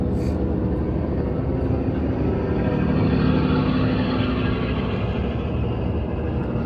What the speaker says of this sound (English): a big truck is coming, hold on.